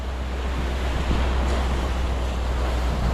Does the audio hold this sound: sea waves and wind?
yes